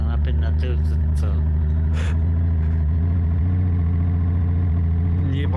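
Car engine revving and idling in the DayZ video game, a Charger with rear-wheel drive, a steady low engine drone with throttle rises, heard under people talking.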